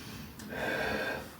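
One deep inhalation during strength exercise with a bullworker and isokinator: a close, audible breath drawn in steadily for about a second, with no talking.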